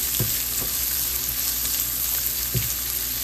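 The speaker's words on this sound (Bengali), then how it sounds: "এবার পেঁয়াজটা দিয়ে পেঁয়াজটাকে আমি একটু ভাজা করব" Chopped onion sizzles in hot mustard oil with cumin, a steady crackling hiss with a few soft scraping stirs, close and alone without talk.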